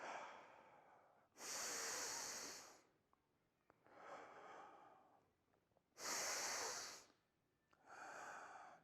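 Slow, deep breaths fill the torso from the bottom up, with alternating long inhales and exhales that come as soft, close airy rushes separated by brief pauses.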